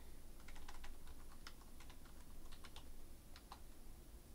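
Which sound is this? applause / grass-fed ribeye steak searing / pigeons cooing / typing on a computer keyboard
typing on a computer keyboard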